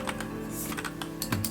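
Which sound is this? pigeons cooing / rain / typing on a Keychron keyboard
typing on a Keychron keyboard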